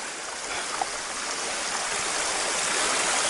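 Water rushes and splashes steadily as a hiker wades through flooded ground on a spring backpacking trail, a loud continuous wash with no talk.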